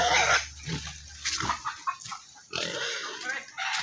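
Native piglets squealing, loud shrill repeated squeals and grunts in quick, uneven bursts, close by, with little talk.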